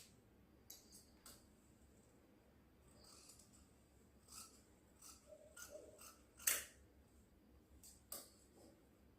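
Scissors snip through fabric for a one-year-old baby's four-layer ghagra in a handful of short, quiet, separated cuts, one sharper snip standing out, in a quiet room with no talking.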